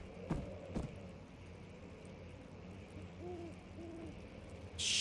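Game bird hooting in Amnesia: The Dark Descent, several soft owl-like hoots repeating at a distance over a low ambient drone, with a couple of sharp knocks early and a brighter burst at the end.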